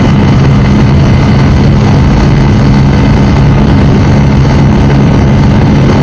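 A Bajaj Pulsar N160 motorcycle engine drones loudly and steadily under a light pull of acceleration, a dense, constant roar heard up close with no pauses.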